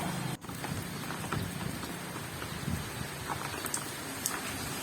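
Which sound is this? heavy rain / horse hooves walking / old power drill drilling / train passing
heavy rain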